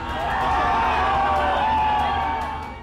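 A dense crowd gathered in the Mansi–Khagaria area cheers joyfully, a sustained loud roar of mixed voices and whoops that fades slightly at the end.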